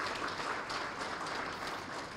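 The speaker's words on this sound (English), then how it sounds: "I want to give him a nice round of applause." An audience at a schools address gives a round of applause: faint, distant, even clapping forms a continuous wash with no voice over it.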